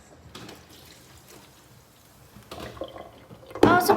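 Liquid from a can poured out into a kitchen sink, a faint trickle and splash that grows into a louder splashing pour at the end, with quiet background noise before it.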